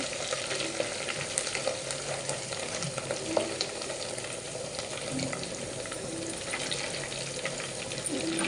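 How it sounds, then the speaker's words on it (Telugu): Curry leaves and coriander frying in a pan for tomato rice, a steady, even sizzle with light stirring scrapes throughout, fairly quiet and close, with no talking. "కరివేపాకు, కొత్తిమీర, కొంచెం ఫ్రై అవుతాం."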